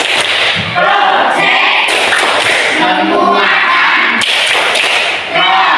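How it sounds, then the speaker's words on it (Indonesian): A group chants together in a school setting while clapping a rhythmic 'tepuk P5' pattern for a Pancasila student-profile project. Sharp claps punctuate steady, loud voices throughout. "coba kita bareng-bareng dengan tepuk P5"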